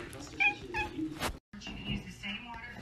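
A cat meows several times in short rising calls, close by, with background voices and noise running throughout and a brief silent gap midway.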